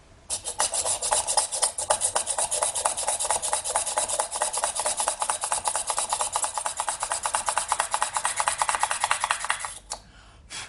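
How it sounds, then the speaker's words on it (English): A fast, rhythmic grinding rasp of a small automatic drill boring into polymer clay, continuous and close for about ten seconds before stopping. "then I can use the automatic drill"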